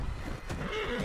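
A horse in the video game Red Dead Redemption 2 lets out one short, faint whinny in the middle of a noisy game soundscape.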